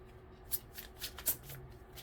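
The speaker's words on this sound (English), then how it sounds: "Let's give it one more shuffle and see if we can pull an outcome here." Tarot cards are shuffled by hand in a quiet room, a few soft riffling bursts with crisp snaps between them, close and fairly faint, with no talk.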